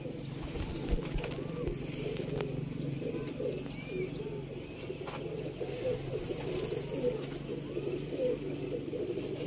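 Teddy pigeons on a rooftop in Sialkot keep up a steady, low cooing under a continuous murmur of outdoor background noise, with faint scattered chirps and no pauses throughout.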